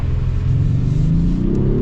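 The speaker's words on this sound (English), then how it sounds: "This engine's fun! Man, it's got some power." A 2025 Acura MDX Type S engine accelerating from inside the cabin, a loud continuous low rumble rising steadily in pitch with no talking.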